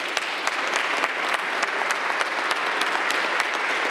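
Audience applause fills the chambers at a Cleveland City Council meeting, a steady, moderately loud crowd of hands clapping with a few sharper individual claps standing out.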